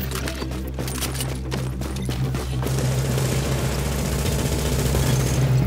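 Rapid automatic gunfire in a multiplayer shooter as a fortification comes under attack, dense bursts of shots at first, then a continuous rumbling din of battle with a low engine-like drone underneath.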